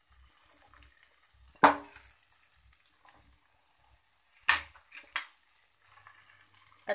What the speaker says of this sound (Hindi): अच्छे से इसे मिक्स करेंगे।